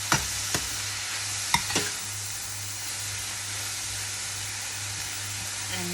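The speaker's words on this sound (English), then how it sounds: "And so I just stir it around in the pot." Fresh pak choi gets stirred in a pot while stir frying, giving a soft steady sizzle and hiss broken by a few scattered utensil clicks and scrapes.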